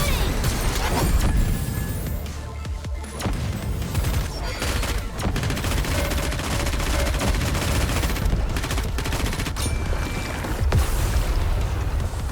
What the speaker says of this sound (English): Roger, keep shooting!